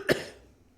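A single sharp cough, close and fairly quiet, with a brief fading tail and no talk around it.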